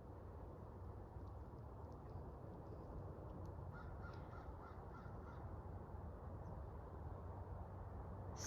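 Crows caw faintly in the woods on a winter day hike, a few distant calls over a steady background hiss with no one talking.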